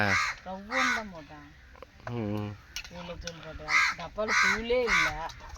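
Crows caw repeatedly outdoors beside a street where food is being cooked, harsh calls mixed in with people talking nearby.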